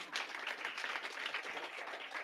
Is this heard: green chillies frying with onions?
no